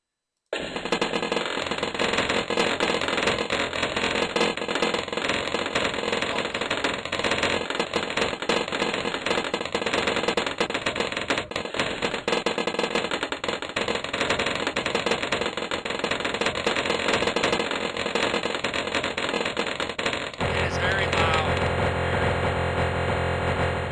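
Balloons popping in the Bloons TD 3 tower defense game, a dense, loud, continuous barrage of overlapping pops and crackles that runs throughout and shifts in tone near the end.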